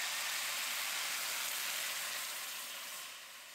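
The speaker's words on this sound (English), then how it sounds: "Round up that delicious Madeira and pour it in." Madeira wine poured into a hot pan of tender, lightly browned shallots, giving a steady bright sizzle and hiss that fades slightly toward the end, with no talking.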